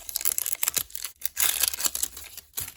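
A zipper on the pouch of a Jurassic World Captivz dino slime egg toy rasps open in short, scratchy bursts with brief pauses, close and crisp.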